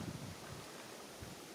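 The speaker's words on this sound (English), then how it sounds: "It's a bit windy, so I don't know whether you can hear me." Gusty outdoor wind buffets a microphone in a garden beside potted plants and a wheelbarrow, a low rumbling roar with soft bursts that holds steady throughout.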